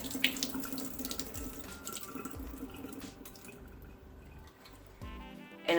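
Liquid drains from a jar into a kitchen sink, a steady running pour with splashing and dripping that eases in the middle and swells again near the end, with no talking.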